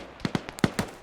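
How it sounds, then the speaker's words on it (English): Artillery battery firing in a military video game match, Swedish forces against Russian insurgents on an island: five quick sharp reports in rapid, uneven succession, close and punchy with no talk. "The artillery battery at the south end of the island is firing at this time"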